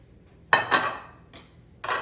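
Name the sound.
onions put into a bowl or onto a plate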